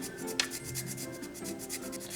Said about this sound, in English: I'm just using my little mini grater and we're zesting it right in here.